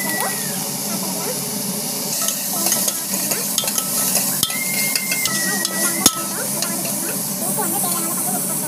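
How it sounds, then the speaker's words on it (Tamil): Ground spice paste sautés in hot oil over a village cooking fire, a steady sizzle and hiss with scattered stirring scrapes and clatters, while a person talks intermittently. "நல்லா வந்து வதக்கிக்கோங்க"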